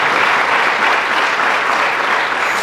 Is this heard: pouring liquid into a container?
no